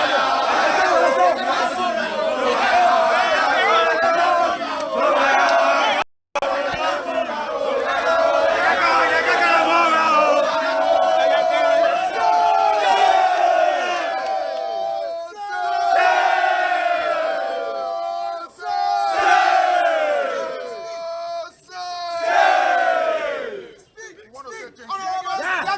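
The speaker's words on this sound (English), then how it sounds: "The crowd here." A large crowd at a political gathering keeps up a loud, steady roar of chatter and shouting, with a few swells, and no single voice stands out.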